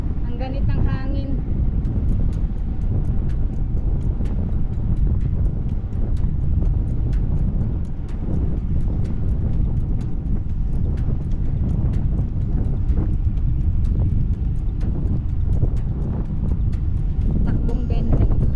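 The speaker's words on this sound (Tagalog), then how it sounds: "Ayan na yung hangin." On a cycling track at night, wind batters the microphone of a moving bike, producing a constant heavy low rumble with rapid clicking ticks, as a rider speaks briefly at the start.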